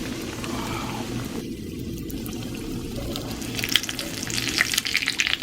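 Schnitzel cordon bleu frying in a pan, a steady crackling sizzle throughout that turns brighter and busier toward the end, with no talk.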